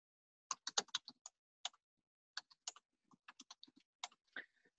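A Linux terminal command is typed on a computer keyboard, crisp close keystrokes in quick bursts separated by short pauses, in an otherwise quiet room.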